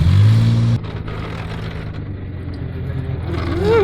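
An old 1970s Ford F350 truck engine revs hard while pulling another vehicle out, a loud low growl that dips after a moment and then climbs again toward the end.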